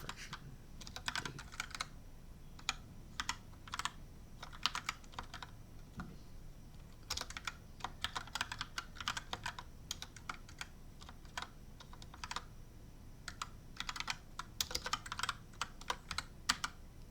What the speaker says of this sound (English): let's go over here and actually type that and see what happens